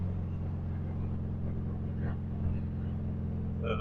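A 1971 Volkswagen Beetle Autostick engine at full throttle, a loud low steady drone heard from inside the car, with a brief voice near the end.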